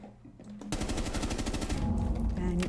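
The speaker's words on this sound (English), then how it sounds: "I think someone was shooting at me." Rapid automatic gunfire in the video game Rainbow Six Siege, a loud, dense burst of evenly spaced shots starting suddenly after a quieter moment and continuing to the end.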